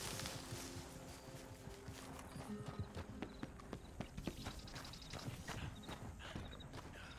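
Horse hooves walking in the video game Red Dead Redemption 2, a steady clip-clop of hoofbeats over a busy, continuous background bed of game ambience, fairly faint overall.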